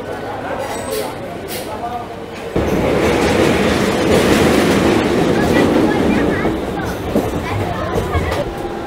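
Local passenger train on the Howrah to Digha line rumbling along at steady speed, a loud continuous roar of wheels and carriage with rhythmic clatter, heard from inside the coach with faint voices in the background.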